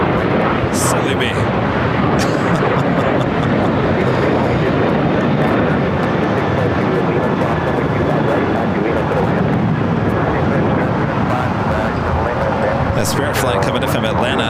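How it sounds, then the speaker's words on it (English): Spirit Airlines Airbus A320neo arriving at LAX, a loud, steady roar of jet engines filling the air throughout, with a faint voice in the background. "Spirit flight coming in from Atlanta. Spirit Airlines flight 835, A320 NEO."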